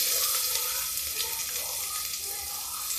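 Onions frying in hot oil for veg pulao, a steady bright sizzle with soft crackling and bubbling that holds evenly throughout, close and continuous with no talk.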